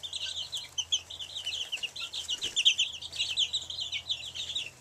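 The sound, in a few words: young chickens clucking in a flock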